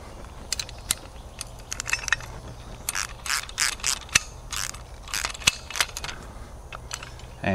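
A boat trailer winch clicks and ratchets in irregular bursts of sharp metallic ticks and rattles, close by, with brief pauses between runs and no talking.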